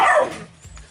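A single short dog bark from a stray, fairly close and loud, quickly fading out.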